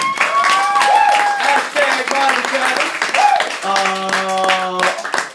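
Audience applause at a poetry slam in Orlando, Florida, a steady wash of clapping lasting the whole stretch, mixed with sustained musical tones and voices.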